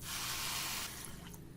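A cup of water is poured onto sugar in a wok, a steady, close hiss for just under a second, then trailing off into a few faint drips and trickles.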